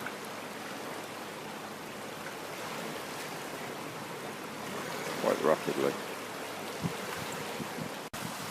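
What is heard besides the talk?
canal lock chamber filling with water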